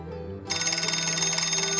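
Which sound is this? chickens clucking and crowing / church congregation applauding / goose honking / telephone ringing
telephone ringing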